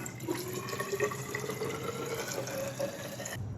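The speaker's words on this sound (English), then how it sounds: "drain now your flush solution out" Flush solution drains out of a Volkswagen Mk1–Mk3 cooling system in a steady, close trickle and splash of liquid that runs without a break for a few seconds.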